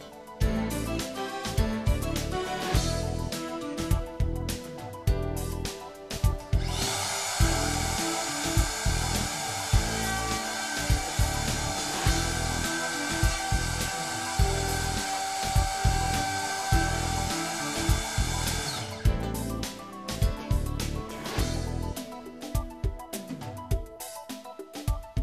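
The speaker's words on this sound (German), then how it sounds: "Fräsen Sie dann mit der gleichen Schablone aus einem dünnen Sperrholzbrett das Einlegestück heraus." A handheld router guided by a template mills an inlay piece out of thin plywood, a loud sustained high whine broken by a rhythmic chattering cut throughout.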